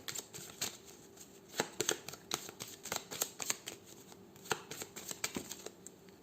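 Playing cards are shuffled and drawn during a card reading, a quiet, close series of quick riffling flicks and soft snaps in an uneven rhythm, with no speech.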